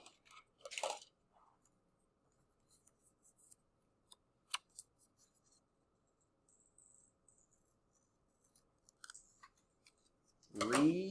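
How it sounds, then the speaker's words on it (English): Scissors snip through a paper note card in a quiet room: one crisp cut near the start, faint rustles and small clicks in between, then a louder, longer cutting sound at the end. "Scissors."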